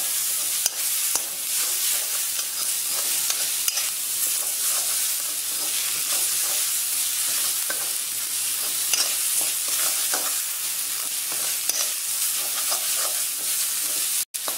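Masala and chopped tomato frying for a beef dry roast, stirred continuously in the pan with a dense, loud sizzle and rapid scraping strokes throughout, no talking.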